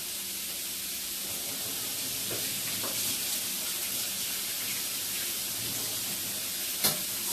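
A sausage patty being pressed flat in a grill pan while it sizzles, with a steady close hiss and a few faint scrapes and a sharp tap near the end, no speech.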